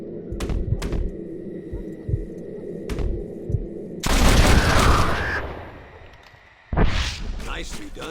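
Gunfire from the Red Dead Redemption video game, shooting at flushed birds near the town of Chuparosa: a few faint distant shots over a low hum, then two loud blasts with lingering noise. A voice speaks in between.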